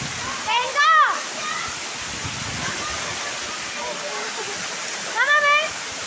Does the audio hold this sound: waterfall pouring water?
yes